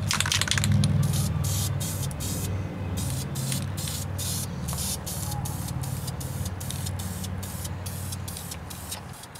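A spray can paints the brake calipers of a 2012 Mazdaspeed3, hissing close by in a long run of repeated short bursts with brief gaps between them over a steady background.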